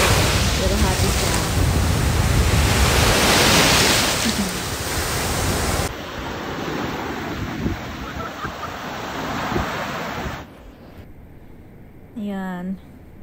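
Loud, broad roar of crashing surf close by, easing into softer washing water and wind rumble, with a short tonal chirp near the end.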